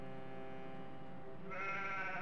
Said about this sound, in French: Deux petits agneaux grelottent à l'intérieur.